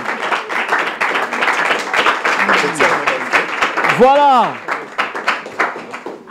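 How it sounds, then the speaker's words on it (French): An audience at a competition final claps loudly for a third-place finalist, dense sustained applause under an announcer's amplified voice, with a brief sung or shouted tone midway. "On applaudit quand même très fort pour Bien-Aimé."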